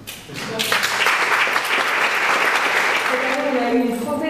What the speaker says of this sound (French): Donc on va applaudir.